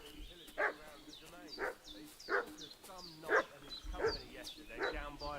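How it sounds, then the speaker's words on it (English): Dog barking in the medieval video game Kingdom Come: Deliverance, a series of loud, evenly spaced barks repeating about once a second over a steady game ambience. "What's that dog making such a fuss about?"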